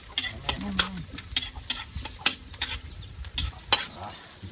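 Ginger with onion sautés in a pan for chicken adobo, a soft continuous sizzle broken by repeated scraping strokes of a spatula in an irregular rhythm; a brief voice-like tone appears early.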